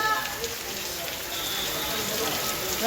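Steady rain pours down outdoors during a monsoon shower where actors stand around, a continuous broadband hiss of drops hitting surfaces, fairly loud and even throughout with people talking over it.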